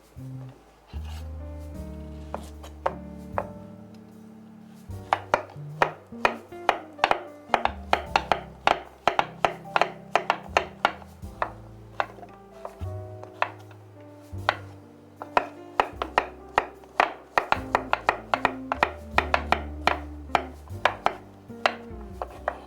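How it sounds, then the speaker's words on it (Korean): A knife chops through squash on a cutting board in a home kitchen, with steady repeated sharp knocks that speed into a dense, fairly close rhythm after a few slow strokes; no one talks. "먼저 호박을 예, 호박을 절반 썰어 주세요"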